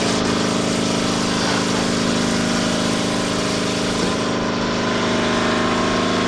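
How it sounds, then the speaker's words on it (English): An air compressor runs steadily nearby in a motorcycle tire mounting workspace, giving a loud, continuous motor drone with no voices. "You can hear the air compressor is now kicked in."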